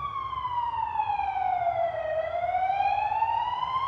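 An emergency vehicle siren wails loudly and steadily, sweeping down in pitch and then back up as it passes, with no other sounds over it.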